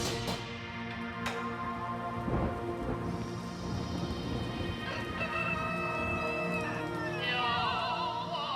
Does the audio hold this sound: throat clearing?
no